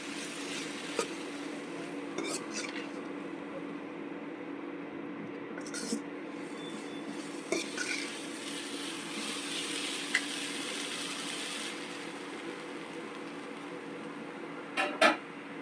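Soft, continuous sizzling of veg hakka noodles in a pan with occasional light clinks and scrapes of a utensil stirring, louder clatter at the very end.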